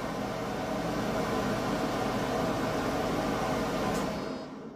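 A Mueller Soleil 8 kg clothes dryer switched on and running, giving a steady, dense broadband whoosh of fan and heater air that holds even for several seconds and then tapers off near the end, with no voices.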